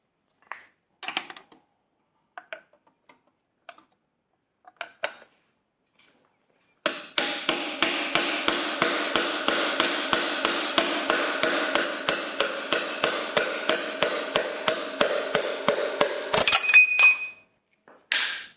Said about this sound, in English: Now to get a socket and drift it on out.